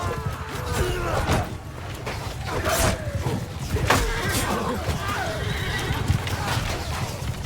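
Horses neighing and whinnying amid galloping hooves in a battle in the video game Mount & Blade 2: Bannerlord, several loud whinnies over clattering hoofbeats and combat noise, with some talk over it.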